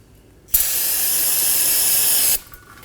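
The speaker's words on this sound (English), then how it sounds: "Now we're going to take some brake parts cleaner, spray the area down" Brake parts cleaner hisses from an aerosol can onto the oil drain area of a 2015-2023 Nissan Maxima 3.5L V6, one loud, steady, close burst of roughly two seconds with abrupt start and stop, no talking.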